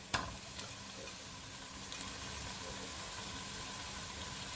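Crushed ginger, garlic and green chili frying with onions in a pan for Kerala-style chicken roast, a steady close sizzle with faint stirring scrapes, an early sharp clack, no talk.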